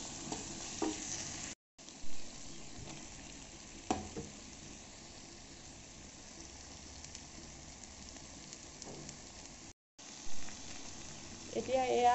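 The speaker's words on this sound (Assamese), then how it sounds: "এতিয়া এয়া আলুখিনি মই 10-15 মিনিট কম চিমত এয়া ভাজি থাকিম।" Potatoes fry with meat in a pan on low heat, making a quiet, steady sizzle broken by a few louder stirring scrapes.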